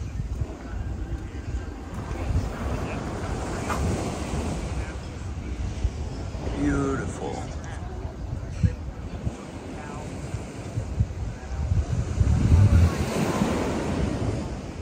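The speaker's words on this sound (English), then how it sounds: "Waves crashing up." Ocean surf breaking on the shore on a sunny morning in Cabo, a steady rushing wash of waves with wind buffeting the microphone and occasional louder surges.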